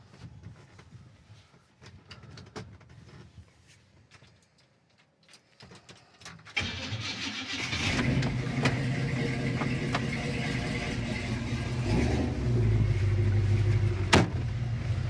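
Big-block V8 under the hood of a 1940 Chevy pickup starts and runs, a steady loud engine rumble taking over after a quiet stretch with light clicks and handling noises.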